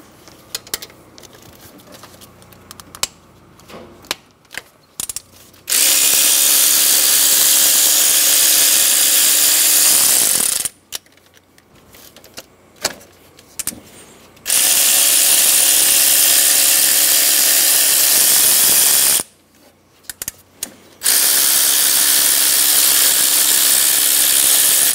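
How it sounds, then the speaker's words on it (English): A power tool fitted with a 14 mm socket whirs loudly in three sustained bursts while removing idler pulleys during a timing belt job on a 2010-2014 Subaru Outback, with quieter clicks and handling noises between runs. "Using a 14 millimeter socket, we're going to remove the three idler pulleys."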